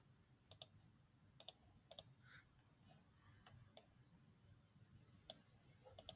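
Sharp computer mouse clicks sound up close during database work, coming singly and in quick pairs at irregular intervals over a quiet room background.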